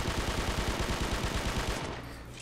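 Rapid automatic fire from the BR3 assault rifle in the video game H-Hour, a loud, steady burst of evenly spaced shots lasting nearly two seconds before cutting off into a brief tail.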